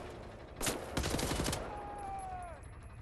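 A close, rapid burst of automatic gunfire fires wildly in Wolfenstein: The New Order, as a quick run of loud shots lasting about a second. A ringing tone trails off afterward over a quiet background.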